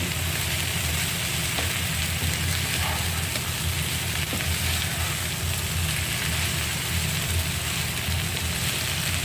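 Vegetables sizzle steadily in a frying pan with coriander leaves, a constant crackling hiss with no break and no talk.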